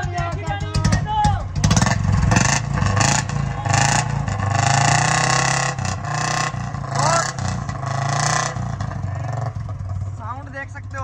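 A 2010 Royal Enfield Electra motorcycle fitted with a short water dholki exhaust runs at close range, its loud engine thumping and revving steadily, with a voice talking over it throughout.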